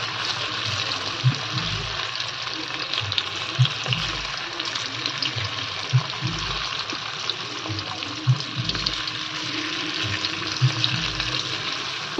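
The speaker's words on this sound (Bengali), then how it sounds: "এমনভাবে বাকিগুলো আমরা ভেজে নেব" Soya chunks fry in a pan for chili soya, a steady broadband sizzle running throughout with faint periodic low thumps from stirring or handling, close and moderately loud, with no talking.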